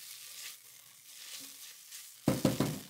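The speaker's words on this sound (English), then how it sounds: "We're just gonna saute that up until it is beautifully fragrant, and that only takes a couple seconds." Dried thyme sautéing in a hot pan, a soft steady sizzle that suddenly grows into louder crackling bursts near the end, close and clear with no talking.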